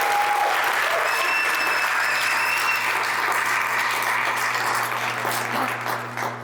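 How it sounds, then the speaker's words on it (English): An audience at a conservative political event in Utah gives a round of applause, dense, even clapping with a steady electrical hum beneath, tapering slightly toward the end. "So can we give them a round of applause?"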